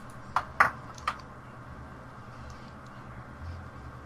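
A phone gives off three quick, bright notification pings close together near the start of a podcast call, followed by a quiet room hum and no talk.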